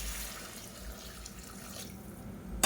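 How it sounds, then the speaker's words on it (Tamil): Water pours steadily from a tap or jug into a cooking pot for mutton biriyani after the sautéed ingredients. It is a continuous splashing flow of moderate loudness with no talk, and a brighter burst of splashing comes at the end. "ஒரு 1/2 லிட்டர் அளவுக்கு தண்ணி சேர்த்துக்கலாம்."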